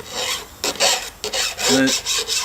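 A flat file rasps across the burred edge of a chainsaw bar groove in several short, close strokes with brief pauses between them.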